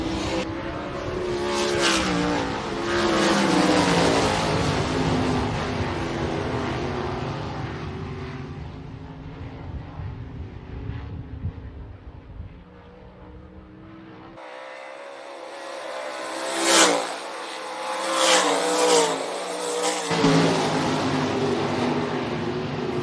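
Race cars roaring around a speedway oval during a heat race, engines surging loud and close then fading as the pack moves away before another loud pass sweeps by.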